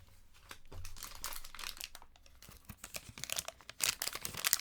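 Food packaging rustles and crinkles close by in irregular bursts of crackling, loud and uneven, with no talking.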